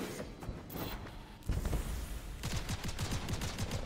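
Gunfire in the video game Seraph: a quiet bed of game noise breaks into rapid, repeated gunshot bursts, with a steady fusillade of close shots filling the second half.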